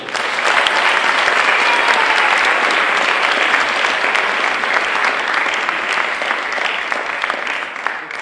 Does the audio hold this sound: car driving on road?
no